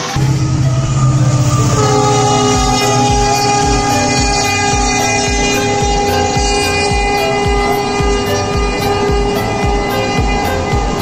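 A train rolls beneath an overbridge in a loud, close pass, its wheels clacking in a steady rhythm over the rails while a sustained horn-like tone rings above the rumble throughout.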